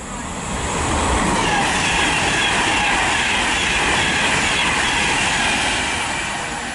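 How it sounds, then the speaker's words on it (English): Pendolino train (class 390) in new livery passing through Tamworth station on the West Coast Main Line, a loud steady rush of wheels and rail noise with clickety-clack, close by and sustained throughout. "passing through now, I've got a Pendolino."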